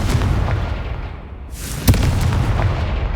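A Confringo fire-blast spell explodes in the Hogwarts Legacy video game, a sharp boom bursting over a steady rumbling battle background, with a sudden bright whoosh just before it and no talk.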